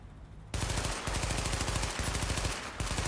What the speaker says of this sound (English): So we'll do the Navy MP5 first. So I'm just going to hold the trigger down.